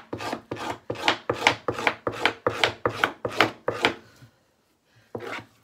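A blade scrapes fish skin to make leather in about ten quick, rhythmic strokes, each one a rasping rub. After a short pause, one more stroke follows. Close and clear, with no talk.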